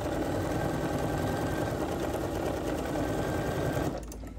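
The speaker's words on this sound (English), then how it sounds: "And it may be a Bernina, but it will still eat my fabric if I'm not careful." A Bernina sewing machine stitching fabric, a loud, close, steady mechanical whir with a fast even rhythm that runs almost the whole time, then stops abruptly near the end.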